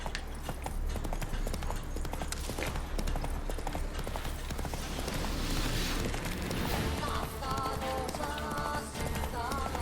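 Roach, Geralt's horse in The Witcher 3, trotting with steady rhythmic clip-clopping hooves under game music and ambience, fairly loud throughout.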